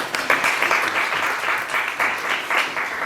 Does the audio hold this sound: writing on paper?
no